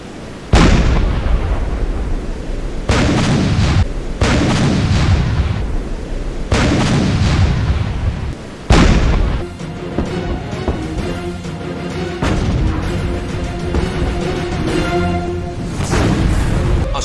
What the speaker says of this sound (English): Bismarck fires her 8 15-inch guns.